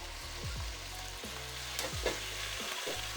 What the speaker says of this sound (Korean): 이렇게 미역을 이렇게 볶아줍니다. 미역 볶는 시간은 한 2분 정도만 볶으면 됩니다.